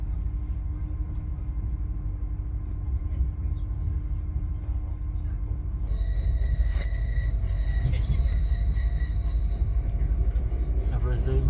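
An LNER Azuma train pulls out of Leeds station, a steady low rumble that rises after a few seconds as tonal whines and rail noise build, heard from inside the carriage.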